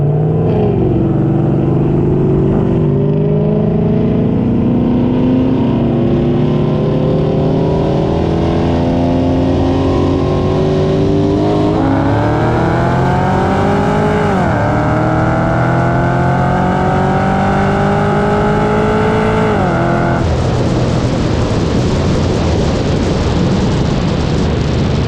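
A 650 wheel-horsepower Cadillac CTS-V roll racing against a Lexus, heard from the driver's seat: a loud, sustained engine roar climbing through the gears with rising whine, brief dips at shifts, then a harsh full-throttle pull before easing off.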